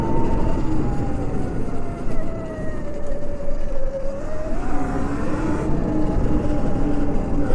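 A Sur-Ron Light Bee electric dirt bike ridden in sport mode, a loud continuous motor whine that dips and climbs in pitch with the throttle over a rushing wind and tire roar, close up.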